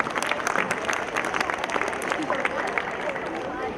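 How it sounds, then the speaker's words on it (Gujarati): A school annual function audience, at Sardar Vinay Mandir, claps in a dense, continuous round of applause with a faint murmur of crowd noise mixed in. "તાળી પાડશો તો સારી વાત છે"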